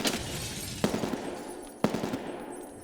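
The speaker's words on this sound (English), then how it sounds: "It looks good, it sounds good, it feels good. The AN-94 is an amazing weapon" AN-94 rifle in Escape from Tarkov firing, two sharp loud shots about a second apart over a busy noisy background, no voices.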